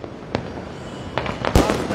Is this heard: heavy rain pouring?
no